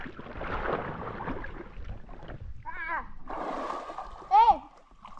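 Water splashes and sloshes in a swimming pool in short bursts. Children's voices shout and squeal over it, with one high-pitched cry near the end.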